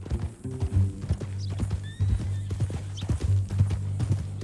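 Horse hooves clip-clop in Red Dead Redemption 2, a steady, close walking rhythm of hollow knocks over a low ambient hum, with a brief whinny-like call in the middle.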